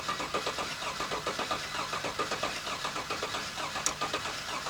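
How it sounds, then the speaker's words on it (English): A car engine with a failed lifter cranks on the starter in a steady, even rhythmic chug for nearly five seconds without catching, heard close and clear. "we'll get James, go ahead and crank it"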